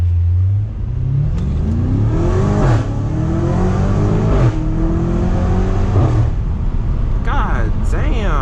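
A BMW M5 F90 twin-turbo V8 pulls hard through several rising gear sweeps, each climb cut by a quick shift, loud and continuous from inside the car, with turbo whistle audible.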